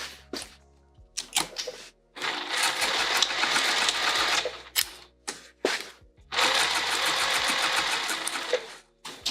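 A sewing machine stitches straight across a tote bag seam in two sustained bursts of rapid mechanical whirring, with short clicks and handling noises in the gaps.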